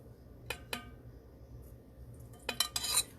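A utensil clinks against a bowl while pumpkin and eggs are mixed together, giving a few sharp taps early on and a quicker cluster of scraping clinks near the end, all close and fairly quiet.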